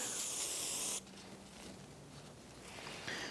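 A short burst of aerosol spray hissing for about a second onto the splines of a Chevrolet S10 rear axle, then quieter mechanical handling sounds and a brief second hiss near the end.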